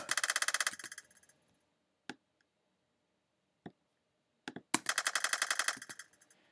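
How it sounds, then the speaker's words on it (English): Rapid machine gun bursts built as a synthetic effect in GarageBand: a long rattling burst, a few isolated single shots, then a second dense burst, loud and close with silent gaps. "That sounds like a decent machine gun sound effect."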